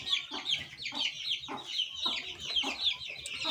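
A champion rooster clucks and crows in bursts, close and fairly loud, with steady high-pitched calls and repeated short clucks across the whole stretch.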